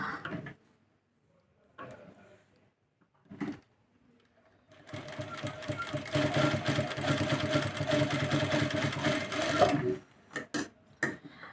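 Sewing machine running a straight stitch along the edge of ready-made kurti fabric with matching thread, a few short bursts and then a steady, loud whirring run of about five seconds before stopping.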